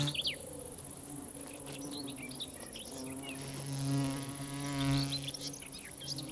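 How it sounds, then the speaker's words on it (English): A bee wolf, a digger wasp that preys on bees, buzzes nearby with a steady droning whine. It swells louder twice as it passes close, then fades back, with faint high chirps in the background. "The bee wolf is a digger wasp that specializes in killing bees."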